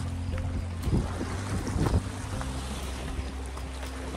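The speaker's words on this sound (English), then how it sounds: "it is a windy day" Steady wind roars across the microphone with low rumbling gusts at Horse Lake in the Boundary Waters, alongside the wash of water and a boat's hum, with no voices.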